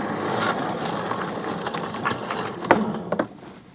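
A Vevor powered garden hose reel winds hose with a continuous mechanical ratcheting and gear clatter, close and steady, with a few sharper clicks near the end.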